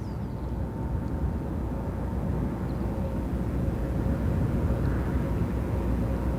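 An Airbus A350 at London Gatwick Airport, a steady, distant low engine roar that holds evenly throughout with no voices.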